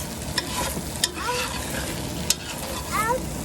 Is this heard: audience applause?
no